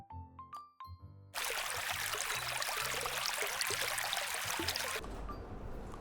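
Shower water runs steadily in a clean shower booth while hair is washed. The spray sounds as a loud, continuous hiss after a few light chiming tones, then cuts off near the end.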